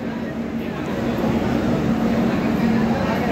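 Interior of a moving passenger train in India, a steady low rumble and broadband hum with a faint whine, continuous and fairly loud throughout.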